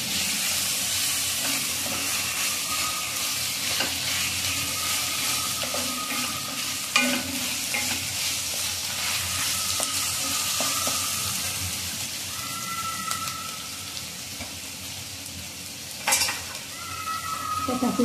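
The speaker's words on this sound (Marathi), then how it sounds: "कांदा जितकं बारीक कापता ते टाकायचं" Finely chopped onion sizzles and fries in a pan while being stirred for a methi bhaji, a steady close frying hiss with occasional scrapes and clinks of a spoon against the pan.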